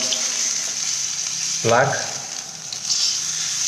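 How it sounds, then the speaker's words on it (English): Stuffed paneer slices filled with pineapple chutney sizzle steadily in a hot pan, a bright continuous fry with a short burst of louder crackle as the pieces shift, and a voice speaks briefly over it. "the paneer slices has been stuffed with pineapple chutney, and we're pan frying it"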